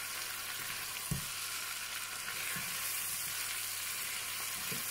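Achari chicken karahi sizzling steadily in a pan, a dense continuous hiss with a few soft knocks of a spoon stirring through it, close and without talk.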